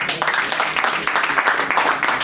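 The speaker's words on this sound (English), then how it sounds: "Another round of applause for everyone." An audience applauds, dense clapping that stays fairly even throughout, with a voice faintly mixed in.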